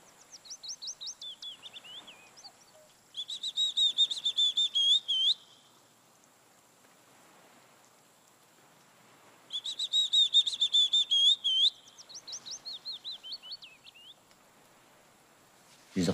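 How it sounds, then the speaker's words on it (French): A small Phylloscopus warbler sings high, thin whistled phrases and quick trills outdoors, repeated in bursts with pauses between, fairly faint against a quiet background. "Juste là, t'as un petit passereau,"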